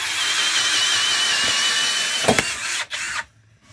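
A cordless drill on half battery whines steadily at high speed, close up, drilling through a boat hull, then bogs and cuts out near the end as it breaks through, leaving quiet.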